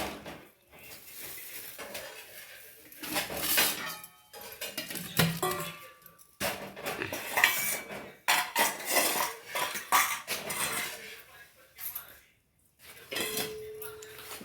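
Pots, dishes and cutlery clink and clatter in a home kitchen in Konkan while an ancestral memorial meal with urad-dal vadas is cooked and served, with irregular bursts of metallic knocks and scrapes and occasional voices in the background.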